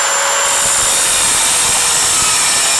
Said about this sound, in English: I'm just going to cut it in place with the grinder